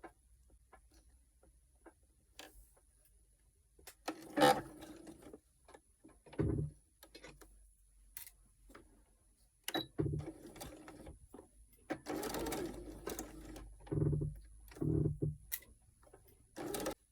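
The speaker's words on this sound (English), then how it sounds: "I'll just stitch with a straight stitch" Sewing machine running a straight stitch through pinned lingerie fabric scraps, in several short bursts separated by pauses, fairly close and moderately loud.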